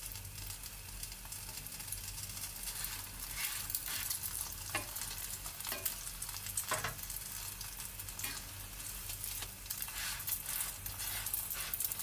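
An egg paratha sizzles steadily in a hot pan, a constant close frying hiss broken by a few sharp scrapes and clicks from stirring or turning.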